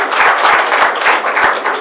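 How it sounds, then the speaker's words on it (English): A room of people at a club breakfast meeting gives a loud, close round of applause for new members, continuous, steady clapping with no one speaking. "round of applause for our new members"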